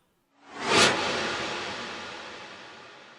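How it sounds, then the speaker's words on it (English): A cinematic trailer whoosh from a Kontakt sample instrument swells quickly to a loud, bright peak, then trails off in a long reverberant wash, alone. "last but not least, I believe was Swooshes"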